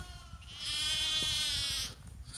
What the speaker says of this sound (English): So there we have spring lambs.